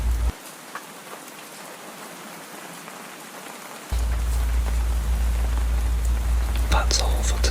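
Steady rain pours down at night, a dense, even hiss that starts softer and thickens into a heavier, continuous downpour partway through, with scattered brighter drips near the end and no voices.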